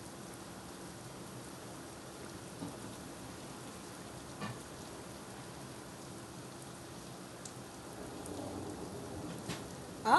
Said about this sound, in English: Ah, thunder. Did you hear the thunder that time?